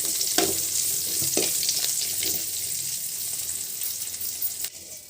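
Peanuts and coriander fry and get stirred in a pan, a close, continuous sizzle with soft scraping strokes and a couple of sharper clinks, no talking.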